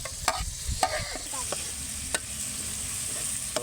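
Tomatoes, green chillies and onions fry in a pan for egg masala, a steady close sizzle punctuated by several sharp spatula clacks and scrapes as they are stirred.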